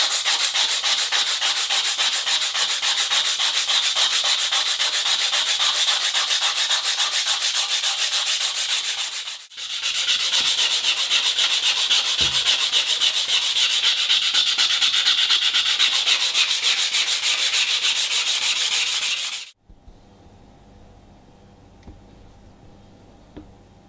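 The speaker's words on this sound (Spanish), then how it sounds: "vamos a empezar a lijar para dejar esto como se merece." A nakiri knife blade being sanded during a restoration: a continuous, close, rasping rub of rapid strokes with one brief pause midway, ending abruptly in near silence.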